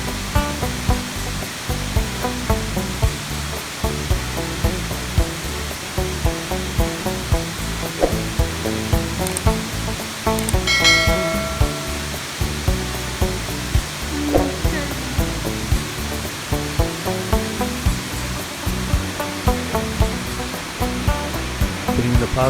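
Bridal Veil Falls near Hope, British Columbia, Canada, gives a continuous broadband roar of falling water, steady and fairly loud throughout, with no clear voices over it.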